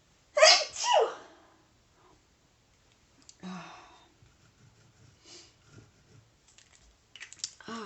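Two sharp sneezes close together, loud and near, followed by quiet rustling and faint scattered background sounds.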